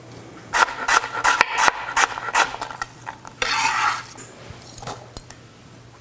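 Diced peeled apples tumble into a deep sauté pan, making a quick run of close, sharp clatters and knocks, then a denser rattling scrape as the pieces settle, with a few last taps.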